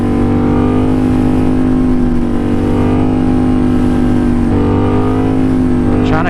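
A Yamaha FZ07 motorcycle engine held at steady revs through a long wheelie, a loud, close, continuous drone with only slight pitch wavering and wind rush.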